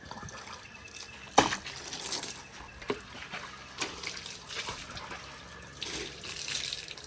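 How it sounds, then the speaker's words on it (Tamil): Water splashes and sloshes as a car is washed in a garden, with a Labrador dog nearby. The sound comes in uneven bursts, including a sharp splash early on, over steady running water, with no talking. "ஜானே கார் கழுவுடா."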